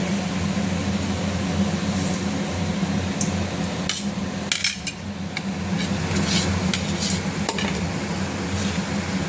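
Butter murukku crackles in hot oil, a dense, steady sizzle with sharp metallic taps and scrapes as a slotted spoon turns the spirals in the pan.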